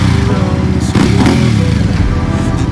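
A Benda Napoleon 450 motorcycle accelerates with a loud, steady, close engine drone and a brief surge in revs partway through.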